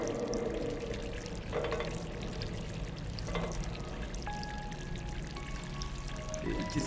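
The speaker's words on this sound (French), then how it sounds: "Alors là il faut remplir la canette d'eau." Water pours and trickles into a can in the video game Stray, a soft, continuous splashing flow with faint tonal game sounds layered underneath, fairly quiet throughout.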